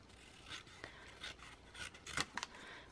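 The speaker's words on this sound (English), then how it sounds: "So I'm gonna fussy cut a lot and probably fast forward a lot." Scissors fussy-cutting around paper artwork, a run of soft snips and scraping paper rubs in irregular bursts, close and fairly quiet, with no talking.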